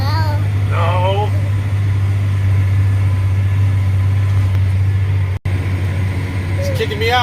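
A tractor engine idles and runs steadily throughout a ride, a loud constant low rumble with a voice and adult speech heard faintly over it.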